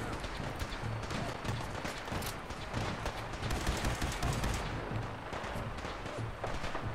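Dense rapid gunfire from the video game Fallout 4, a continuous crackling barrage of shots with low thumps, loud and steady throughout with no speech.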